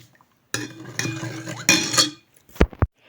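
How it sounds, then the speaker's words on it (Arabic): A metal spoon clinks and scrapes against dishes in several separate bursts: clattering rattles first, then two quick, bright taps near the end, close and clear with no talking. "فهنضطر نحط كمان معلقه"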